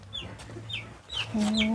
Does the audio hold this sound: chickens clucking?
yes